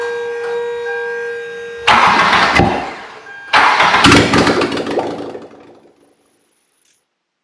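Toyota MR2 Spyder engine, freshly rebuilt, cranks and catches twice in succession, each start a loud rough burst that settles into idle before cutting off, with a faint high whine near the end.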